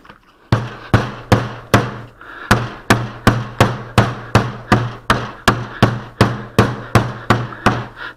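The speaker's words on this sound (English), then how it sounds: "So I notice the mallet's working a little better if I hit it on the edge of the mallet instead of a full flat." A mallet strikes a lump of old putty in a steady run of about twenty loud, close blows, evenly spaced with a short pause early on, each a sharp thwack that dies away quickly.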